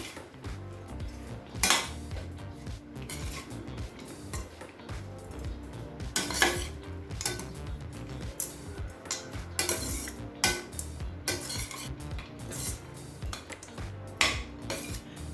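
Cooked rice for lemon rice being stirred and mixed in a pan: a metal spoon scrapes and knocks against the pan in irregular clinks and clanks, with quieter shuffling between the sharper hits.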